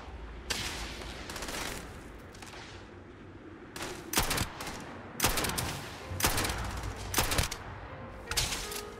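A favored gun fires in Starfield, with several sharp bursts and rapid volleys broken by short pauses, loud and close, and no voices over them.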